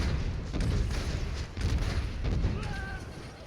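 Rocket shots and explosions from Pharah in Overwatch sound as dull booms and rumbling blasts amid busy game noise, fairly loud and repeated over a few seconds.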